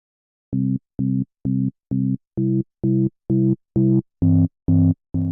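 A synth note repeats about eleven times in steady, evenly spaced pulses through distortion at a low drive setting, soft and mildly saturated, growing slightly fuller toward the end.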